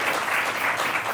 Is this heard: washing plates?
no